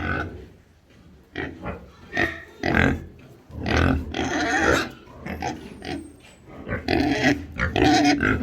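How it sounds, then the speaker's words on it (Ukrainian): Piglets on a farm, newborn after a sow's farrowing, grunting and squealing in repeated close bursts throughout, loud and busy with no talk. "Ось такі от гарні поросятки."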